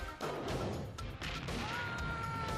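An explosion in the Crime Patrol video game rumbles loudly throughout, a dense, crashing roar with several heavier bursts along the way and no speech over it.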